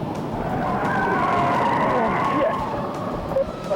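A police patrol car skids while taking a corner too quickly, giving a continuous rough tire scrub with a wavering squeal, loud and steady throughout.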